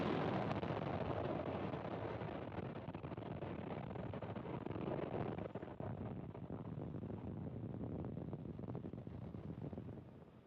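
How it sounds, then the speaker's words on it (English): A SpaceX Falcon 9 rocket lifts off from Space Launch Complex 4E at Vandenberg Space Force Base, California, producing a dense, continuous crackling roar that holds steady before tapering slightly at the end. "Falcon 9 has successfully lifted off from Slick 4E at Vandenberg Space Force Base in California"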